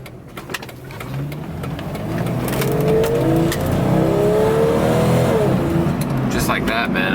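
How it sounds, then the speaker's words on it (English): Jeep Cherokee XJ with a 4.0L engine pulling up through the gears, its engine note rising and shifting steadily over several seconds in the cabin, with a person talking over it. "God, the downshift and upshift is just awesome on this Jeep."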